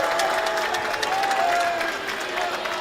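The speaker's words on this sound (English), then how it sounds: "you hear the approval by the Max crowd" Basketball crowd at a Yeshiva Macs home game cheering in approval as Robert Kraft enters the building, a steady, dense roar of voices and scattered clapping filling the gym throughout.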